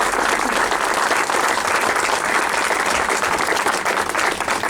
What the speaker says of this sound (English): we should give them a round of applause and support for their doing that